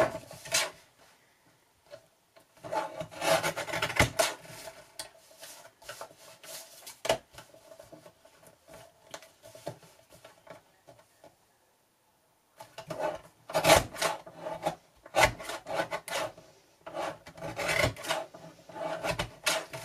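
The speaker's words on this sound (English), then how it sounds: "you can just trim that down using your trimmer" A craft paper trimmer slices overhanging paper edges while making cards, giving close, raspy sliding scrapes in two stretches separated by a quiet pause, with no voice.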